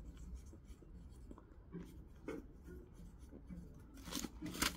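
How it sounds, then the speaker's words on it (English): A pen writes by hand on paper, with short scratchy strokes in bursts that turn denser and louder toward the end, close by and with no talking. "So let me write"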